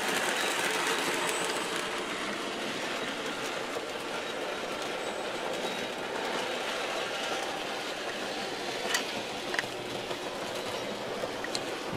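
Bachmann N scale model train locomotive runs on a home layout with a continuous whirring rumble and faint track clatter, plus a couple of brief clicks near the end and no talking.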